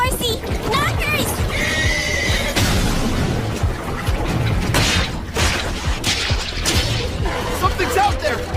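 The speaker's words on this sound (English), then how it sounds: "Was that a girl on horseback?" A horse carrying a girl rider whinnies and clip-clops amid a tense action scene, with a loud neigh rising over rumbling effects and shouting voices.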